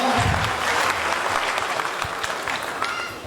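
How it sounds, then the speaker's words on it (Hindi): A loud round of audience applause welcomes honored guests at a gathering, dense steady clapping that starts strong with some low thumps and gradually eases. "एक बार जोरदार तालियों से स्वागत किया जाए सर लोग का"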